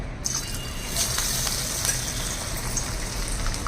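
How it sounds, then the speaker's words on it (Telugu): Multigrain vadas, a lentil fritter batter studded with chana dal, dropped into hot oil: a constant dense hiss and bubbling sizzle, close and even throughout, no voices. "ఈ విధంగా చేసుకుని ఇలా నూనెలో వదలాలి"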